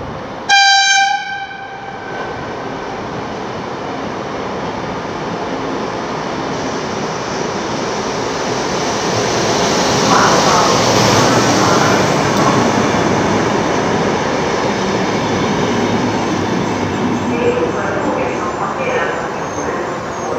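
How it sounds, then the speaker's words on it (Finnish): Finnish imperial train (Keisarijuna) departing on the Jyväskylä–Vaasa line, opening with a loud horn blast followed by a steady, broadband rumble and rolling wheel noise that swells as the train moves off nearby. "No niin, tästä lähtee keisarijuna."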